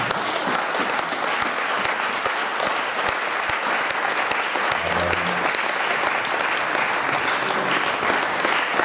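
A church congregation bursts into loud, sustained applause and cheering, with dense clapping filling the whole stretch, a few voices rising within the crowd.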